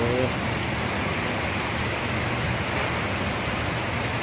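Heavy rain pours down steadily during a flood in the Philippines, a dense, loud, unbroken roar of rainfall with no letup, and a voice briefly audible at the start.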